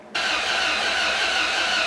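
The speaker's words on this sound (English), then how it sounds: "We're gonna try cranking this again." A Dodge 4.7 engine that will not start is cranked by its starter, making a sudden, loud, steady whirring drone that continues without catching.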